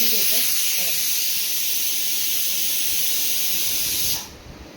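A kitchen pressure cooker whistles, cooking dal, rice or vegetables, as one long, steady, loud hissing blast of escaping steam that cuts off sharply near the end.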